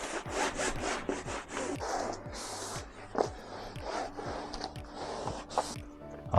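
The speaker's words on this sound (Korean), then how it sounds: "그 다음에 마른 걸레로 부착 부위를 잘 문질러서 접착면이 떨어지지 않도록 잘 부착을 해줍니다." Dry cloth rubbed firmly over the bonded area of a foam tape backing for an ice-fishing floor mat, giving repeated brisk scrubbing strokes in a steady rhythm, close and fairly loud throughout with no talking.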